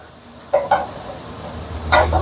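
Pork and tomato stirred and sautéed together in a pan over low heat: a soft continuous sizzle broken by a few distinct scraping stir strokes of a utensil, close up and without voices.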